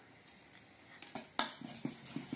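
A big whisk stirs cocoa powder in a bowl for an eggless chocolate sponge cake, making faint, sparse clicks and light taps against the bowl.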